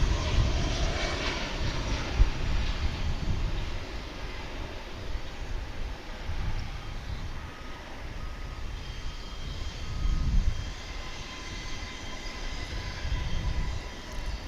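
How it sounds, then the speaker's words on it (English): An American Airlines Boeing 737-800 jet arriving at Dallas/Fort Worth International Airport from Chicago O'Hare makes a continuous, moderately distant engine roar that swells and fades gently with no talking. "this American Airlines flight coming in from"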